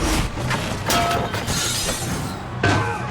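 Glass-like shattering and breaking crashes as the Green Goblin's glider engine is smashed in a Spider-Man film fight scene, loud and dense with a fresh burst of debris near the end and no speech.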